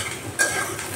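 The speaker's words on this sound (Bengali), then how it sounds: "এটাকে একটু ভাজা ভাজা করার পরে মশলা দিয়ে কষাতে হবে।" Chopped onions, green chili and spices are stirred in a hot frying pan, giving a brief scrape of the spoon over a soft, continuous sizzle.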